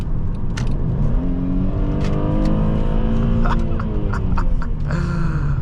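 A 2015 Mercedes-Benz E350 4MATIC's engine hums steadily while driving, its pitch climbing smoothly as the car accelerates, heard from inside the cabin with a constant road rumble and a few faint clicks.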